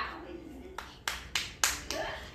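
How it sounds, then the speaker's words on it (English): Several sharp hand claps, about five, in an uneven rhythm, fairly close and moderately loud, with a voice talking faintly underneath. "Can you clap?"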